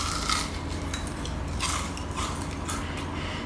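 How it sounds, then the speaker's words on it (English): Crisp crunches of teeth biting into super crispy fried Taiwanese popcorn chicken, several crackly bursts at irregular intervals, close to the mic over a low background hum, with no talking. "I hope you can hear the crunch from here."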